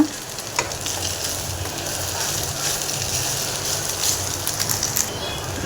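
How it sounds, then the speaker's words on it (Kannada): Grated carrot and rice frying and being stirred in a pan for carrot rice, a steady close sizzle with scraping stir sounds throughout and no talking. "ಫ್ರೈ ಮಾಡ್ಕೊಂಡು ಚೆನ್ನಾಗಿ ಮಿಕ್ಸ್ ಮಾಡಬೇಕು"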